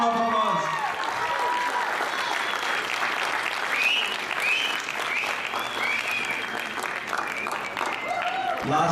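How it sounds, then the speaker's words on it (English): A crowd applauds after a stage performance at a Diwali community event, a dense sustained wash of clapping mixed with cheers and whistles, with an announcer's voice heard briefly over it. "A big round of applause."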